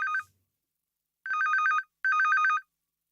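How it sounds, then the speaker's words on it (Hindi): A mobile phone rings nearby in a quiet room, a bright electronic trilling tone sounding in three short bursts separated by gaps of silence. "तुम्हारा फोन बज रहा है"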